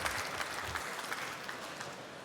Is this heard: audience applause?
yes